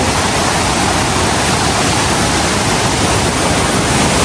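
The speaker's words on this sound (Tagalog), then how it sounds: "You know, Kaparkan Falls." Kaparkan Falls in the Philippines roars in a dense, unbroken wash of rushing water, loud and close, with steady broadband noise and no pauses.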